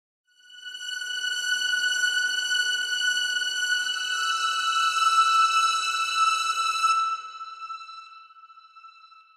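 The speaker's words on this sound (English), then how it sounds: "And finally, we got these strings." A sustained string pad from an FL Studio pluggnb beat plays as a single held chord of bright, even harmonic layers for about seven seconds, then fades out gently with no other instruments.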